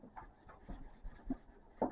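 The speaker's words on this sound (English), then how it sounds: "just give it a quick wipe" Cleaning wipe rubbed over the wrist rest of a Kinesis Advantage360 keyboard, giving quiet, close, intermittent swishing strokes with small scuffs and a louder rub near the end.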